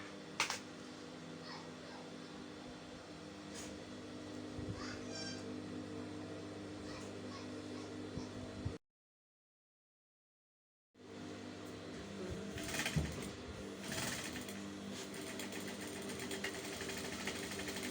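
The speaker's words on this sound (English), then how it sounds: "So I'm going to sew." A sewing machine stitches a reversible bucket hat, a close steady mechanical whir running continuously, breaking off into silence for about two seconds before resuming.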